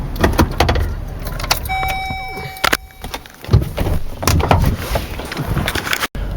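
Pickup truck towing a lawn-care trailer for an Exmark mower pulls away, giving steady engine rumble, metallic rattles and clunks from the hitch, and a brief electronic chime partway through.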